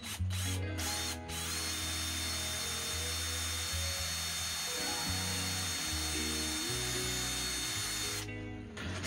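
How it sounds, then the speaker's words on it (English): A power drill bores a faucet hole in a DIY portable sink. The motor whines loudly and steadily for several seconds and dips in pitch as the bit bites, with brief stops at the start and end. "I'm now changing out my bit for the hole where I want my faucet to sit."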